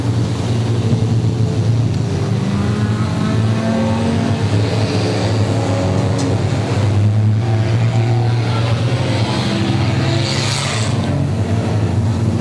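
Street stock race cars circle a dirt or asphalt oval during an A-main race, a steady loud engine drone with rising and falling passes throughout, mid-distance and continuous.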